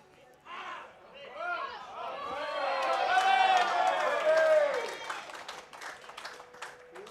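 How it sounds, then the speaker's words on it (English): A crowd at an outdoor lawn bowls match erupts in loud cheering and shouting that swells for a few seconds and then fades into scattered voices, with a commentator talking over it. "That was a cheer for Matthew Peterson on the middle rink."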